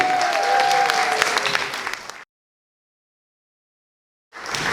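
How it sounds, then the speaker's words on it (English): Audience applause at a talent competition final at an outdoor mela in Luton, loud and dense for about two seconds, then cut to silence before applause briefly resumes at the end. "Give him a massive round of applause as he leaves the stage"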